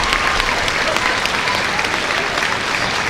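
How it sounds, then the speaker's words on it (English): Spectators at an elite female stage of a world ninja league championship cheer and applaud continuously in a loud, wash-like roar that carries evenly throughout. "Crowd's cheering her on."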